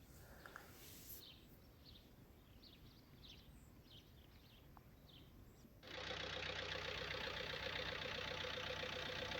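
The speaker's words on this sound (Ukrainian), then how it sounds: "Зараз чуємо, як працює гарно дизельний мотор." Faint outdoor ambience with a few distant bird chirps gives way to the 1.7-litre diesel engine of an Opel Astra J with 322,000 km idling nearby, a steady rattling drone.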